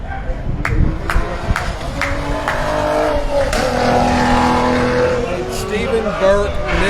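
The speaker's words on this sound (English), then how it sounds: "Rob, of course, in that other awesome GT500. That's got 760 horsepower." A Ford GT500 race car with 760 horsepower roars on a racing track, its loud engine drone sustained and rising with sharp transient bursts, under excited commentary from announcers.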